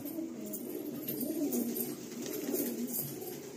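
Chotial pigeons in a Kolkata breeder's loft coo in a continuous low burbling murmur, several birds close by with no voices over them.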